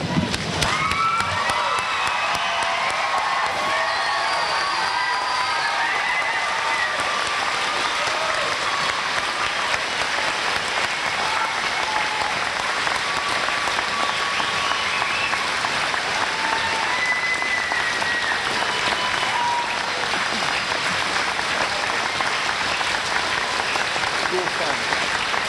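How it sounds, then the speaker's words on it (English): A large crowd at a high school graduation ceremony applauds continuously and loudly, with scattered cheers and shouts mixed into the dense clapping throughout. "Ladies and gentlemen, let us stand and applaud the graduates."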